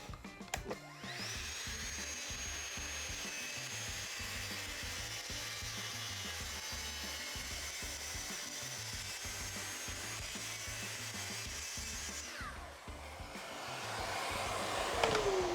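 A cordless track saw rips a long cut along a wooden board for an outdoor table, a steady whining cut lasting about twelve seconds before the blade spins down, close and fairly loud with no talk.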